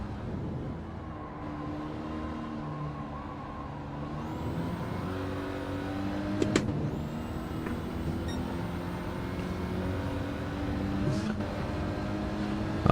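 A Clio Cup race car engine drones steadily in a racing game, a continuous mid-level hum whose pitch rises and falls with revving and gear changes, with a couple of brief sharp clicks along the way.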